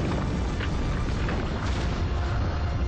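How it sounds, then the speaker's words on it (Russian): Explosions in the Aliens vs. Predator video game, a continuous heavy rumbling roar of blasts with no gaps, loud and close throughout. "Вон, даже сейчас все взрывается"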